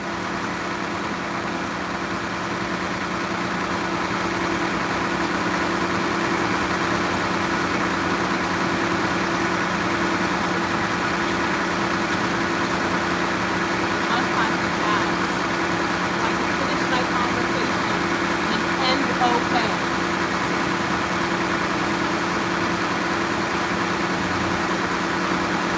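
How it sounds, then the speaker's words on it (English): A bus engine idles nearby in cold outdoor air, a steady, loud low drone with a constant hum that runs unbroken for the whole stretch. "The bus is so loud."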